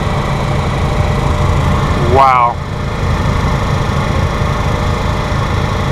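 Big boat engine running fast on a trip from Fort Pierce to Tampa, a steady loud roar with constant wind and water rush, while a voice briefly exclaims partway through.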